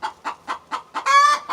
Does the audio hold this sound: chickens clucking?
yes